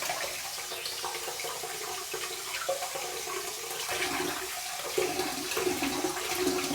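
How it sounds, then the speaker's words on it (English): Hot water running from a tap onto a puck of shaving soap, a steady close splashing flow that swells slightly toward the end, with no talking. "let's get some hot water, and let's put some hot water on the top of this"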